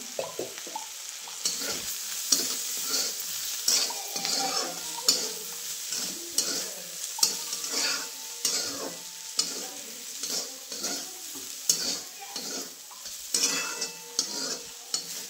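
Cooked beans are stirred in a pan after black chili powder goes in, giving a steady soft sizzle with repeated scraping and stirring strokes and occasional light clinks, with no talking.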